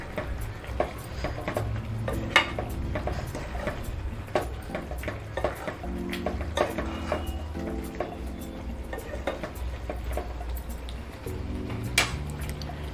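Jackfruit thokku with a squeeze of lemon juice is stirred in a pan, a spoon scraping and clacking against the metal in irregular strokes over a low, steady sizzle, fairly quiet and with no voices.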